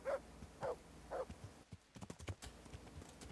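A horse in Kingdom Come Deliverance trots closer: a few hollow hoof thuds at first, then a quicker run of clip-clop steps, faint and somewhat distant.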